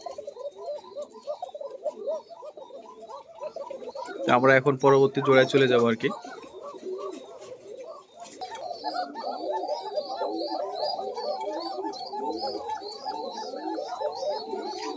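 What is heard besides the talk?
pigeons cooing with a thin call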